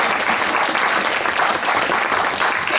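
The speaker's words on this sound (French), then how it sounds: "Allez, applaudissez!" A hall audience at a tribute evening for Julos Beaucarne at the Foyer Georges Brassens in Beaucourt applauds steadily, a dense, even wash of many hands clapping close and loud throughout.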